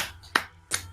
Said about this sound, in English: Whoever clapped, fuck you.